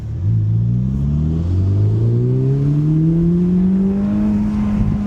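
Ferrari Roma Spider, 2025, accelerating hard in sports mode: a loud, continuous engine note rising steadily in pitch through the gears over five seconds, close and strong with no talk.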